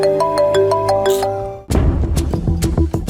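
A phone ringtone plays loud and close as a call comes in from a party office, first a bright repeating electronic melody, then an abrupt switch to a denser, bassier jingle with rhythmic hits.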